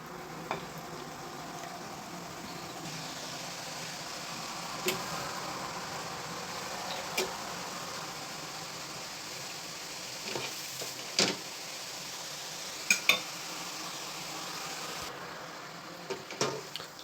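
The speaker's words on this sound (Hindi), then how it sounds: "अब जो हमारा जो तेल है ये गर्म हो चुका है, तो अब हम इसमें नमक पारे डालेंगे।" Namak pare fry in hot oil, giving a steady, even sizzle throughout with occasional faint clinks of a utensil.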